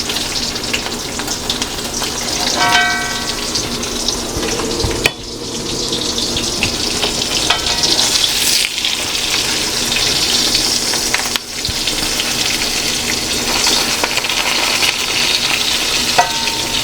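Eggplant omelettes frying in oil in a pan sizzle steadily and loudly, broken by two sharp clanks as a piece is flipped, with faint clatter of utensils throughout.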